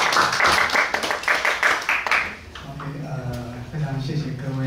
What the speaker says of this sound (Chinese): 那我们一起鼓掌欢迎他。